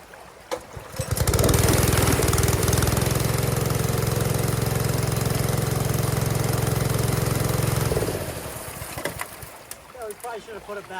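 A 3 inch gold dredge engine runs loud and steady at high revs for several seconds, then drops off sharply, leaving a quieter background with brief voices at the end.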